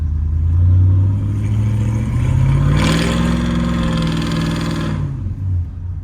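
A cammed 5.3 V8 truck with a Carven R exhaust revs up from a lumpy idle, swelling into a loud, rising roar that holds for a couple of seconds before dropping back to a choppy idle, heard up close.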